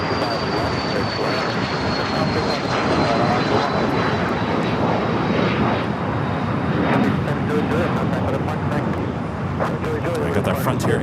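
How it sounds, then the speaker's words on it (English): A Frontier Airbus A320 rolls down runway 25 right at LAX for takeoff, a steady loud engine roar filling the air with a thin high whine on top, while a voice talks over it. "We got the Frontier A320 now rolling down at 25 right, heading to Phoenix, Arizona."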